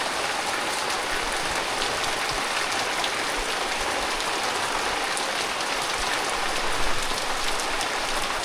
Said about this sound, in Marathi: पाऊस बघा आता केवढा आला आहे परत